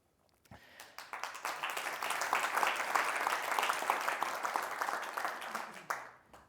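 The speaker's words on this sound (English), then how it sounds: "big round of applause goes to all these partners here" A conference audience at a founder and investor event applauds partners, clapping swelling quickly into a full sustained ovation that holds for several seconds and then tapers off.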